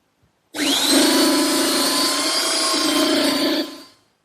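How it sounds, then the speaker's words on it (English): A small belt sander runs steadily for about three seconds on the edges of a wooden chair table top, starting abruptly, holding a loud even whine with a low hum beneath, then spinning down. "I like to use a slightly smaller belt sander to do these edges"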